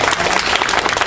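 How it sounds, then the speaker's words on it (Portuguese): A close, loud burst of dense audience applause for a speaker at a Brazilian ufology gathering, the clapping continuous throughout with a faint crowd murmur. "Uma salva de palmas, por favor,"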